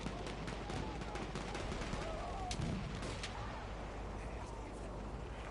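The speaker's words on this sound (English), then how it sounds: "Grenade spam." Video game combat in a tournament match: a rapid scatter of grenade blasts and gunfire cracks keeps going throughout, with some sharp, louder hits among a continuous background of battle noise.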